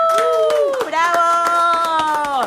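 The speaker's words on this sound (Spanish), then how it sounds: "Un aplauso, pero fuerte" Loud, rhythmic clapping from a small crowd at a nail salon's Halloween nail design showcase, with sharp regular hand claps under a sustained voice cheering or singing over the top.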